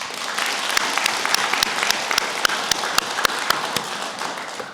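A crowd applauds steadily at a Korean memorial ceremony for Patriotic Martyrs' Day, with sharp individual claps standing out above the dense, even clapping.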